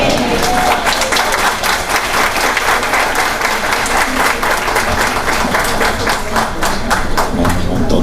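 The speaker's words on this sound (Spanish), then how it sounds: "que se sienta el aplauso, para nuestra querida hermana Ángela Cabrera" A crowd at a Catholic archdiocesan Ultreya gathering gives loud, sustained applause after a talk, with dense clapping that stays steady and close throughout and faint voices mixed in.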